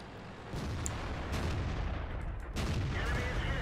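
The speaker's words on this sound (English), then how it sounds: "I put a shot into the KV4." Tank cannons fire during a World of Tanks battle against a KV-4, giving a few heavy booming blasts over a dense, rumbling wash of battle noise that stays loud throughout.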